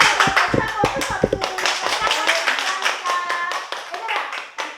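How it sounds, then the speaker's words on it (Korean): A big round of applause from a classroom of children at the end of an open lesson, with dense, close hand claps that start strong and keep going, along with scattered taps and some young voices. "다시 한번 큰 박수."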